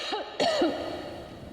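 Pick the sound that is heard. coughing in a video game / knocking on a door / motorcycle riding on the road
coughing in a video game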